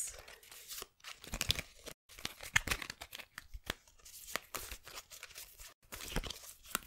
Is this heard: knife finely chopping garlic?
no